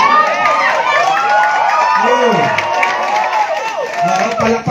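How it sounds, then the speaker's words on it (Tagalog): Seminar audience cheering and clapping for a guest named Sir June, a loud mix of shouts, whoops and applause from a crowd close by. "palakpak naman ang lahat para kay Sir June"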